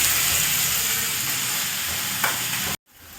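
Cashew nuts fry in hot oil for an Indian tomato bath dish, giving a loud, steady close-up sizzle and hiss that runs unbroken before cutting off abruptly near the end.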